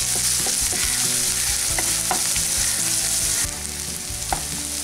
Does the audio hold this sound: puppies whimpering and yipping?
no